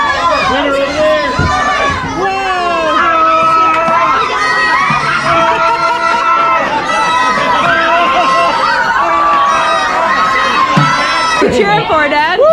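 A crowd of adults and children cheers and shouts at a crab race on St. Croix in the US Virgin Islands, with excited voices overlapping and chattering continuously close by.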